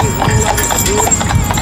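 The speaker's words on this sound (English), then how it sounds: "Oh, look at that horse, the black horse." A black horse walks with steady, fairly close clip-clopping hooves, the rhythmic clops clear above a constant background hum.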